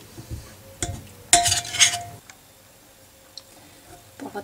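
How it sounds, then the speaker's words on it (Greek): A spoon stirs homemade lemon cough syrup in a pot, pressing the lemons, with a few sharp clinks and scrapes against the metal and a brief louder rattle, then quiet. "Οπότε πατάω καλά τα λεμόνια να βγάλουν το ζουμάκι τους και ανακατεύω"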